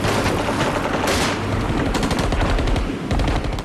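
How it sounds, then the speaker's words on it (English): Sustained bursts of gunfire and rapid automatic shots from AWB convoys pulling out during the Bophuthatswana crisis, loud and dense throughout with overlapping cracks and rattles in archival footage. "but they carried on firing as they left"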